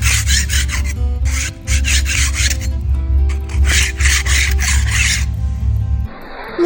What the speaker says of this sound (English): It scrapes off with a putty knife.